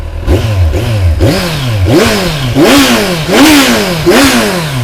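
A 2014 Kawasaki Z1000 motorcycle engine with stock exhaust revs repeatedly, the pitch climbing and dropping in several loud bursts over a rough, clattering idle, close by.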